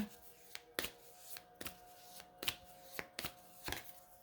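Fortune cards are shuffled by hand in quick, uneven riffles, a series of soft, crisp snaps and slides about every half second, close and fairly quiet with no talking.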